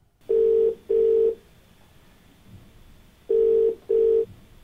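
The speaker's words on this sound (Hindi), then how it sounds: "तो दोस्तों इसी के साथ आइए बात करते हैं अपने अगले कॉलर से गौतम जी से" Telephone line connecting a phone-in caller on a TV call-in show, giving four loud electronic ringback tones in two pairs separated by a quiet gap, each pair of short identical beeps, clear and alone over faint line hiss.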